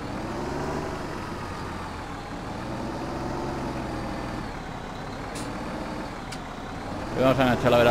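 A tractor in Farming Simulator 2017 drones steadily with a low, even engine hum throughout, followed by a short rattling clatter at the very end.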